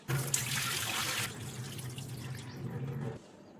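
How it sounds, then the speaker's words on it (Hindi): Water pours steadily out of a vessel into a container while draining soaking water for kurdayi papad, a continuous splashing stream that eases off after about a second and tapers before stopping, close and alone. "एकदम आराम से धीरे धीरे हमने इसका सारा पानी निकाल के ले लिया है"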